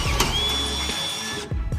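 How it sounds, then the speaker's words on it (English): A sharp drill bit bores through sheet metal during fabrication of the back firewall on a Firebird project car. It makes a steady, close mechanical whine that cuts off abruptly, followed by a couple of short clunks. "I got the sharp drill bit."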